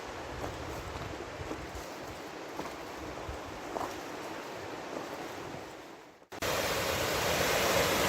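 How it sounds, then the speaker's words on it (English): A distant waterfall on the Lineham Falls trail gives a steady, even rush of broadband roar. The sound jumps abruptly louder and harsher near the end. "That's a pretty far waterfall there."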